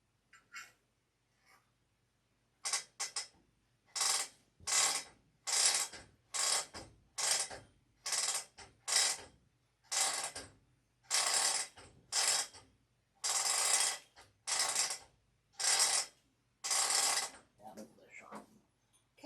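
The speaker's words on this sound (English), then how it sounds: "I'm winding the backing fabric onto the roller so that it's taut" Quilt backing fabric being wound onto a quilting frame roller, heard as a long series of regular ratcheting, clicking bursts, each about half a second, repeating steadily at close range with no voices.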